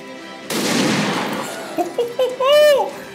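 A loud, sharp hand cannon blast from the video game XCOM with a Star Wars mod opens into a broad rushing burst that decays over about a second, followed by short electronic tones and a rising synthetic chime.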